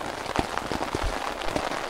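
Heavy rain pattering on a tent at night while camping, a steady dense patter with sharper drops striking close by, continuous and fairly loud with no voices.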